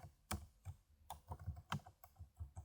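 Test credit card details being typed on a computer keyboard, with quiet, close keystrokes in an uneven rhythm and about a dozen distinct taps with short pauses between them.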